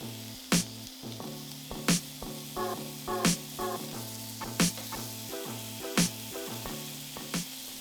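Venison patties sizzle in an oiled pan with a steady hiss, broken by sharp spits and pops about every second or so, loud and close; no talking.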